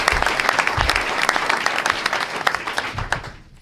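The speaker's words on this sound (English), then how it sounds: "So give them a round of applause." Applause from an audience at a school board meeting honoring teammates who placed sixth at the state finals; a sustained burst of many hands clapping that fades out near the end.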